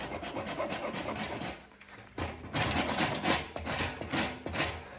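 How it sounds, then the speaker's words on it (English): A hand rasp working a wooden shillelagh handle, giving repeated close scraping strokes in an uneven rhythm with a short pause partway through, and no talking. "usually then we just kind of just rasp it a little bit just to take away"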